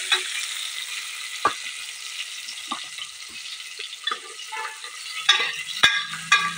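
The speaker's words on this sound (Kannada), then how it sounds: "ಈರುಳ್ಳಿ ಚೆನ್ನಾಗಿ ಫ್ರೈ ಆಗಬೇಕು" Onions fry in oil in a pot for sambar, a soft continuous sizzle broken by intermittent stirring clicks and scrapes of a spoon, a few sharper knocks near the end.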